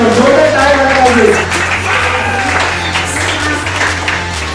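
Clapping from a gathering at a Nurses Day event honouring a nursing sister, a sustained patter of applause running under talking voices and a steady low hum.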